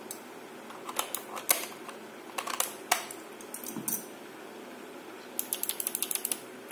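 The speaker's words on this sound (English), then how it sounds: "So it's a clicky switch as well" Fingers type on a Pro 2 mechanical keyboard with clicky Box White switches, giving crisp, quiet, uneven keystrokes that end in a quick run of rapid clicks.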